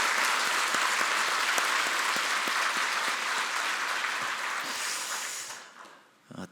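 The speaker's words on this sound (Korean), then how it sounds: "다시 한번 감사의 우리 박수했으면 좋겠습니다" Congregation applause inside a church during a special early-morning prayer service, a sustained wash of clapping that gradually thins out and fades near the end.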